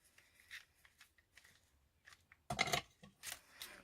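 Scissors cut cream lace for a junk journal: light snips and rustles at first, then a louder burst of close crisp cutting, with no talking.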